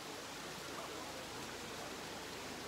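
Waterfalls pour into a forested canyon near Puning Hot Springs, making a faint, steady, distant rush with no change in level.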